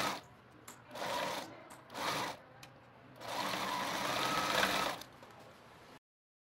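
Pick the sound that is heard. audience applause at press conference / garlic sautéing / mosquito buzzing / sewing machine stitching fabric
sewing machine stitching fabric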